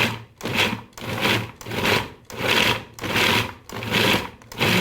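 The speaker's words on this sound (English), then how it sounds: "So we're gonna put the food processor on here, let that blend for a minute. It's best to pulse it." A food processor pulses energy orb ingredients in six even bursts, each a loud whirring grind separated by short silent gaps, close up.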